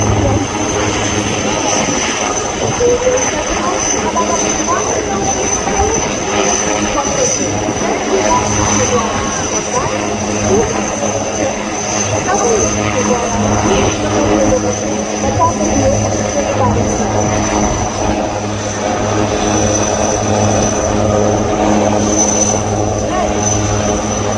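The loud, steady drone of a helicopter engine and rotor continues throughout a Navy Day evacuation display, with a voice talking over it on a loudspeaker.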